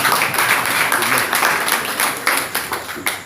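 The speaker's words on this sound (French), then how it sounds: "Applaudissons pour Papa Tani" A congregation at a French-language church service gives a short burst of close, fairly loud clapping, a few seconds of applause with distinct individual claps that ebb and return.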